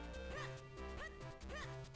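Three short, chirpy synthesized dog barks from The Legend of Zelda: Minish Cap, spaced about half a second apart over steady looping game music.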